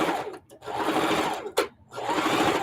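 A sewing machine stitches quilt pieces together, running in steady fast bursts with two short stops between runs. The motor sounds close and clear, with no talking over it.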